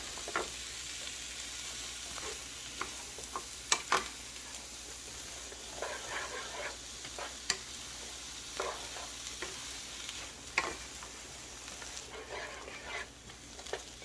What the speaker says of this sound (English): we're trying not to burn the onions and garlic